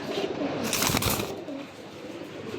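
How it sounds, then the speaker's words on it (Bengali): A pair of Giribaz pigeons cooing softly nearby, a low throaty burble with a brief flutter of wings partway through. "আজকে আপনাদের জন্য খানদানি এক পেয়ার বেজি নিয়ে আসছি বেজি বাঘা কবুতর"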